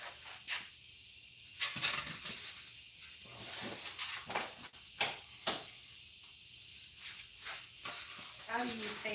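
An airbrush sprays paint onto a latex prop head in soft, hissing bursts that stop and start, with quiet pauses between bursts and talk in the background.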